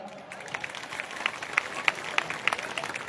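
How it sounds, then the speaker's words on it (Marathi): An audience at a Buddhist gathering bursts into applause, a thin spread of claps that builds into faster, sharper clapping, heard at moderate distance. "त्यामुळे जोरदार टाळ्या"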